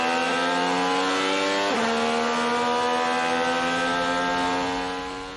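An IndyCar race car screams at around 230 mph, its high-pitched engine note held loud and close, then dropping sharply in pitch as it shifts and climbing again, alone with no talking.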